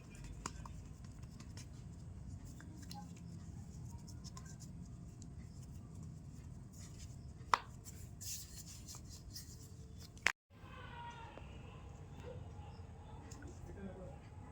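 Folded, oiled chapati dough is pressed and rolled out on a board, a soft repeated rubbing and thudding close by, with a couple of sharp knocks and a brief dropout.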